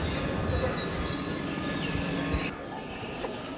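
A Vande Bharat train at Srinagar railway station gives a low rumble and rolling rail noise with faint squeals, fairly quiet and steady, easing off slightly near the end.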